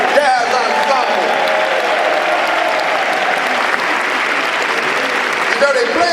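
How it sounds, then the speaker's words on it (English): A crowd gives a full, loud round of applause for the New Jersey Performing Arts Center Youth Jazz Ensemble at a Sarah Vaughan celebration, dense clapping sustained throughout with a few cheers and voices mixed in. "Let's give another grand round of applause for the New Jersey Performing Arts Center Youth Jazz Ensemble"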